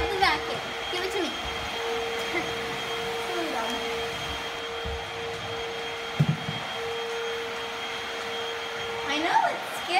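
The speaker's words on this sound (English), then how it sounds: "that shoe's not going to help you to fight the vacuum" A household vacuum cleaner runs continuously indoors, its steady motor whine held at an even level throughout, with brief bumps and knocks and a person talking over it.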